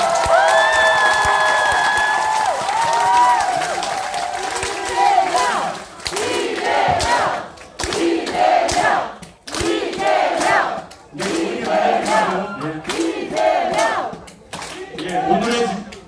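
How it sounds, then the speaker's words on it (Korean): A crowd in a Bucheon-gu office auditorium at a talk concert claps and cheers for politician Lee Jae-myung, loud sustained applause with shouts and chanting voices rising and falling throughout. "우리 여러분 이재명 국회의원 다시 한번 뜨거운 박수를 맞이해주십시오"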